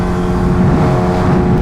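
A Kawasaki H2R motorcycle engine drones steadily and loudly, a constant close mechanical hum with no change in pitch across the short stretch.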